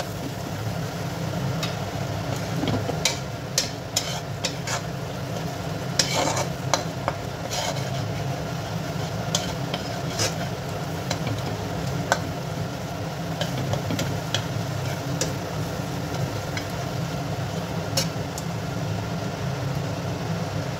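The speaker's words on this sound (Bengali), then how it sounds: "এগুলো সবগুলোকে একসঙ্গে এবার কষাবো" Ground cumin, coriander, Kashmiri chilli and a little turmeric sauté together in a pan for doi bhetki, giving a steady close sizzle broken by scattered light scrapes and clicks of stirring, with no talking.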